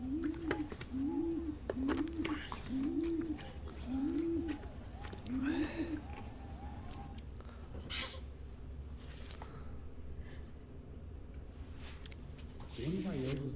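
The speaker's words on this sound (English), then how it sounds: "I think this pigeon is very confused." A pigeon coos in a regular series of six soft, rounded calls near the start, then fades as broadband noise and clatter take over; faint distant sounds continue, and a brief voice-like sound appears at the end.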